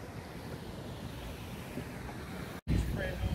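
Waves and wind at Woodbine Beach in Toronto on a busy summer day, a steady rushing wash with wind buffeting the microphone, a brief dropout near the end, then louder gusts.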